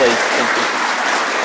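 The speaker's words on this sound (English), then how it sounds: "So can we give Macquarie House a clap and all the kids a clap" Audience at a school end-of-year presentation day applauds Macquarie House and the children, dense steady clapping throughout with a voice speaking briefly over it.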